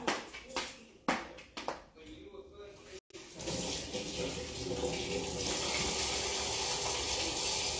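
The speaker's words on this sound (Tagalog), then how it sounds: "maghugas na po ako ng kamay" A tap runs while hands are washed beneath it, a steady close rush of water that starts after a few knocks and thumps and continues to the end.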